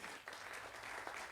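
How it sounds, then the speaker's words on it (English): An audience applauds at a construction celebration for Milgard Hall, honoring the project executive of Anderson Construction; steady, fairly faint clapping from a crowd fills the short moment with no one speaking. "A round of applause, please"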